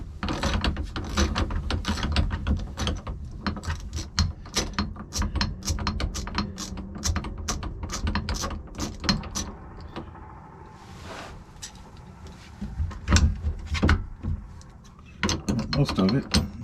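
A ratchet fitted with an 11/16 socket loosens a bolt on an outboard motor, giving long runs of rapid close clicking that pause briefly, then resume in quick bursts.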